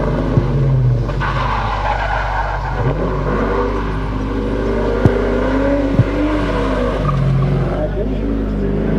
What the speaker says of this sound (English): A little bit of handbrake action.